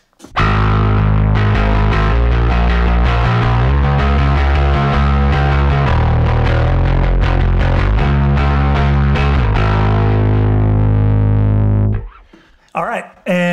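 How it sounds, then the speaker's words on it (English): A bass run through a Rat distortion block on a Line 6 Helix plays a loud, gritty, sustained line of repeated notes for about twelve seconds, then cuts off into a brief quiet tail with a short burst at the end. "this is what it'll sound like if you include the rat"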